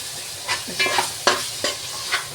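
Biryani masala sizzles in a pan with lemon juice just added, stirred in several distinct scraping strokes over a bright frying hiss, close and loud with no speech.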